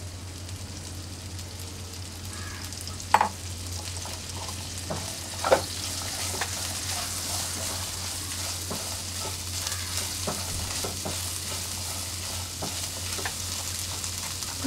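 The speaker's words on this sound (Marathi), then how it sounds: "भेंडी थोडा आपण परतून घ्यायची आहे याच्यात।" Okra (bhindi) sautés in oil in a pan, giving a continuous close sizzle for a long stretch, with a couple of sharp clinks from stirring and a low steady hum underneath.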